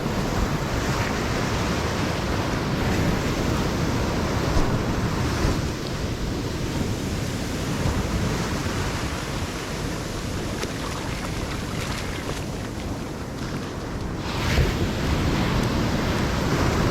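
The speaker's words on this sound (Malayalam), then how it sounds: "തിരമാലകളുടെ ശാന്തമായ താളം, മൃദുവായ സ്വർണ്ണമണൽ" Ocean waves wash steadily onto Marari beach in Alappuzha, a continuous broad roar of surf mixed with wind buffeting, constant and fairly loud with no voices.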